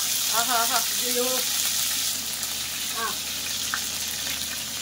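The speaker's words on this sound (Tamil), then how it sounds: "கடுகு நல்லா பொரிஞ்சது கருவேப்பிலை ஒரு கொத்து போட்டுக்கலாம்ப்பா" Mustard seeds and curry leaves sizzle in hot oil for a chicken curry, a steady loud frying hiss throughout, with a voice speaking briefly over it.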